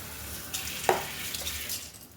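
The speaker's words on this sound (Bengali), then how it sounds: "ভাতটা কিন্তু টকবক করে পড়ছে" Rice boiling in a pot of water gives a steady bubbling hiss with a brief louder burst partway through, close and continuous with no talking.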